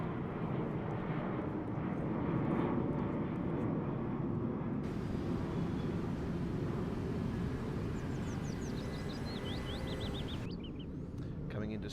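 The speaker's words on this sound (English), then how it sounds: "I hear the planes as well." In Train Simulator Classic, airplanes drone overhead as a broad continuous engine rumble that holds for the whole stretch, with a steady roar under faint game sounds.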